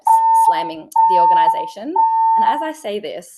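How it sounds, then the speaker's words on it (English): A hotel smoke alarm sounds during repeated alarm testing, giving three loud, steady electronic tones, each about a second long and separated by short gaps, with someone talking between and over them. "I'm in a hotel that's doing repetitive smoke alarm testing."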